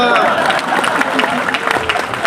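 Audience applause at a Hindi poetry recital in Sitamarhi, dense clapping running throughout under a speaking voice.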